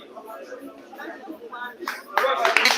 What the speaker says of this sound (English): he gets a round of applause for that one